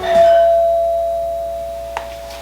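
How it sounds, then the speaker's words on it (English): A household doorbell rings once indoors, a clear sustained electronic chime that slowly fades, with a faint knock near the end. "so doorbell just rang while we were filming"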